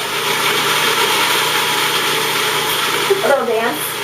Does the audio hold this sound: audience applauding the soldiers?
no